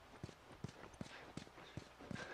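Horse hooves clip-clop at a steady walking rhythm, about six clear hoofbeats, faint and close, in the video game The Last of Us.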